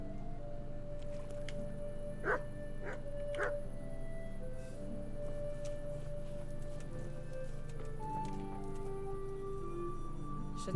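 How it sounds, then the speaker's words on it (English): A dog in the video game Kingdom Come: Deliverance gives a few short barks early on over a steady low hum and faint tones, then the barking stops. "What's that dog wandering around here?"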